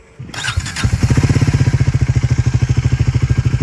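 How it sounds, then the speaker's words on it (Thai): A 2024 Triumph Speed 400 single-cylinder motorcycle engine cranks and fires up close by, then settles into a loud, steady, rapid thumping idle with a deep, even pulse. "อันนี้จะเป็นเสียงเครื่องยนต์ในรอบเดินเบานะครับ เสียงเนี่ยค่อนข้างมีความแน่นนะครับแล้วก็ทุ้ม ในเสียงตอนเบิ้ลนะครับ"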